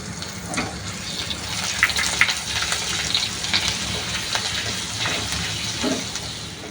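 Ginger sizzling and frying in hot oil in a kadai while a white paneer gravy is prepared, a steady close crackling hiss with faint stirring, no talking.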